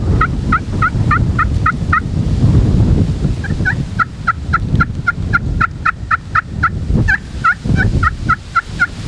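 Turkey slate call worked with a striker, giving sharp, evenly spaced yelps in quick runs, close and loud, with short pauses between series and a rough scratchy background.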